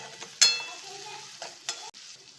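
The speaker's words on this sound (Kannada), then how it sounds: "ಈರುಳ್ಳಿ ಸ್ವಲ್ಪ ಫ್ರೈ ಮಾಡ್ಕೊಳ್ಳೋಣ. ಸ್ವಲ್ಪ ಈರುಳ್ಳಿ ಫ್ರೈ ಆಗಲಿ." Onions sizzle and fry in a pan for a channa dal gravy, a soft steady crackle broken by a few louder stirring scrapes, close by with no talking.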